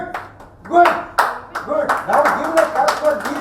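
Audience clapping at a talk after a marathon, bursts of sharp hand claps building into scattered rhythmic applause, close and fairly loud, with a voice speaking over it.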